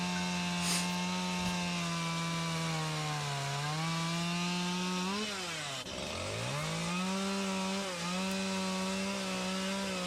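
Chainsaw carving an owl out of wood: a loud, close, continuous engine whine that dips and rises in pitch as the blade bites into the wood, running throughout without talk.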